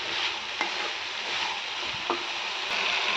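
Potato and tomato curry with turmeric stirred in a sizzling pan, a steady frying hiss broken by a few soft scraping strokes of the spoon, close and even.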